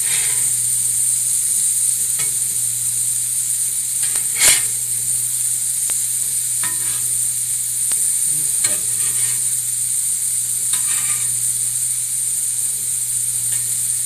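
Shrimp for tacos sizzle and fry in a pan with a loud, steady hiss, broken by a few brief clicks and taps of a utensil turning the pieces.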